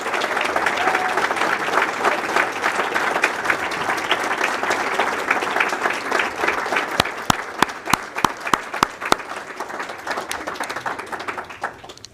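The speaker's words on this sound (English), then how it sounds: "offering one more round of applause to this remarkable group of honorees" Audience at the Town of Clarkstown Women of Distinction awards ceremony giving the honorees a sustained round of applause, a steady dense wash of clapping with several loud, sharp individual claps close by toward the end.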